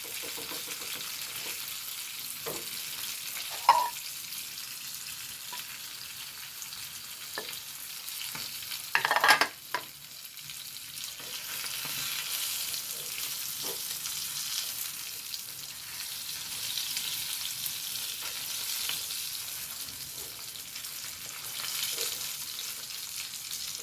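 Akoli fish fries on a large tawa with a steady, even sizzle throughout, punctuated by a few sharp clinks and scrapes, and nobody talks.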